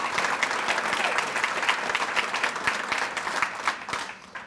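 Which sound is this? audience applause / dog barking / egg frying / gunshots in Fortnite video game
audience applause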